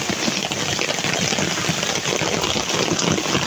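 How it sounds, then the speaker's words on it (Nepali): Rain pours steadily during a hike, making a dense, even hiss with no pauses, and no talking is heard. "पानी पर्यो छाता छैन"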